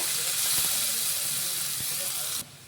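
Chopped onions frying in oil for a bhola fish curry, a dense, even hiss of sizzling that holds steady and then drops off sharply near the end.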